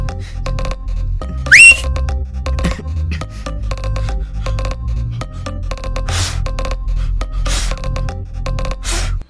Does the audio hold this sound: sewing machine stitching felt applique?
no